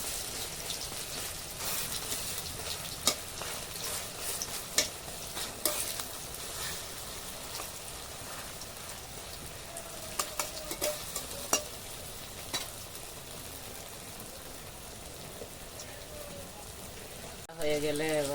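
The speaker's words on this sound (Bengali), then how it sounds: "পিঠটা লাল হয়ে গেল, পিঠটা ভেজে নেব লাল করে।" Cabbage fritters crackle and sizzle steadily in hot oil in a village kitchen, with scattered sharp pops and clicks, while a voice murmurs faintly now and then beneath the frying.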